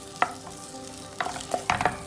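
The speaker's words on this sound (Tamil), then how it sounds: "இந்த டொமேட்டோவை போட்டுட்டு இதுவும் கொஞ்சம் நல்லா மேஷ் ஆகணும். இப்போ நல்லா தீயை வச்சுக்கோங்க" Chopped tomatoes are stirred and mashed in a hot pan for a fish curry, soft scraping and sizzling with a few sharp utensil taps against the pan, close and alone.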